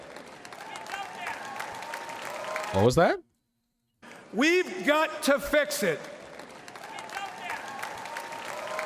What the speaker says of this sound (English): Barely any applause.